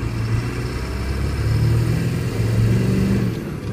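A 2002 Ford F350 extended-cab pickup with a 7.3 diesel and six-speed manual pulls in low range, its engine droning loud and close, rising in pitch through two short climbs with a gear change between.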